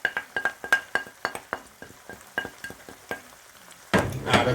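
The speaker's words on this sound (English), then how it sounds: "Give that a nice stir." A spoon stirs chopped parsley into garlic butter shrimp in a pan, making a rapid series of close metallic clinks and scrapes against the pan, followed by a short burst of sizzling.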